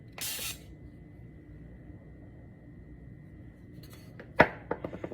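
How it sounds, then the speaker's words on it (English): An olive oil spray can gives a short hissing burst onto a spoon in a kitchen, then a quiet pause followed by a few light clinks and taps of utensils near the end. "So what I did was I sprayed with the olive oil, my spoon."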